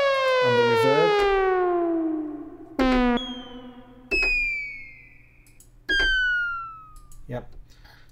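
An Arturia EMS Synthi V synth preset plays descending, gliding tones that ring out into a long reverb tail, with several sharp re-attacks that decay and swell, loud and close.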